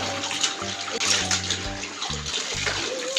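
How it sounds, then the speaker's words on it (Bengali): Running water splashing as clothes are washed by hand in a home bathroom in Bengal, a steady close gush with small sloshing bursts and faint knocks, no voices. "এখন জামা কাপড়গুলো পরিষ্কার করে নিচ্ছি"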